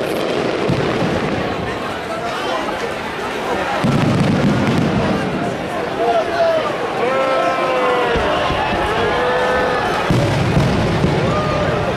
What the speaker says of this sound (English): Is this one of the best fireworks shows you've ever seen?